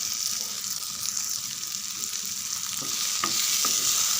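Tomatoes with rock salt and tamarind sauté on medium heat, a loud steady sizzle with a few stirring clacks near the end.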